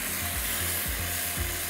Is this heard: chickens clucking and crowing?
no